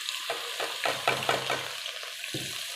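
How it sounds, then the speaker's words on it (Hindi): Finely chopped onions frying in oil with whole spices, a close crackling sizzle broken by several rhythmic stirring scrapes of a spoon in the pot, no voices. "अब इसको भी इसके साथ भूनना हमने।"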